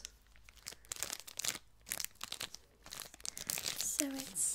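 A red Kit Kat Chunky wrapper crinkles and crackles in close, crisp bursts that come in bunches and build toward the end, handled during a soft-spoken British sweet shop roleplay.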